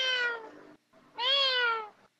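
A cat meowing indoors, two drawn-out, clear meows close by, separated by a brief pause.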